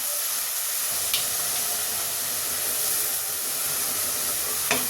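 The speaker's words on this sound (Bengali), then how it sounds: "এখন আমি একটু পেঁয়াজের পেস্ট দিচ্ছি। এটাকে আমি ভালো করে একটু ভুনা করে নিচ্ছি।" Onion paste frying in oil in a pan for a potato curry, giving a steady close sizzle and hiss throughout with a couple of brief stirring clicks.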